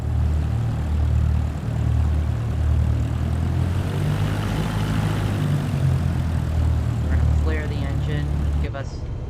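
A Cessna's propeller engine roars at high power in Microsoft Flight Simulator 2024, a loud, steady, droning hum held throughout, with a few faint tonal chirps near the end.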